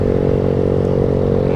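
A motorcycle fitted with a loud aftermarket racing exhaust (knalpot brong) rumbles close by on a street, a deep, steady, throaty drone without a break.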